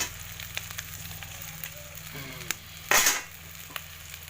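Onions and added ingredients for an Assamese fish curry sizzle steadily in a pan, a close, even frying hiss with light stirring clinks and one brief louder burst of crackle midway.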